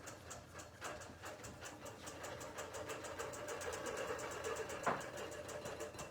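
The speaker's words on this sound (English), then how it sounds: "I'm going to press the green button, and it is going to start stitching out exactly what is on the computer" An embroidery machine stitches out a design with a fast, even mechanical needle rhythm over a low motor hum, heard steadily and fairly close with no talk.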